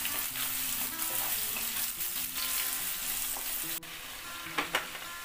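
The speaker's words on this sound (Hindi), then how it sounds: "इसमें हम डाल देंगे चिकन, और चिकन को हाई फ्लेम पे थोड़ा फ्राई करेंगे।" Chicken hitting reddened onions in a pan on high flame for a Bhujing chicken curry, giving a steady, close sizzle and crackle throughout, with a faint stir or clink near the end.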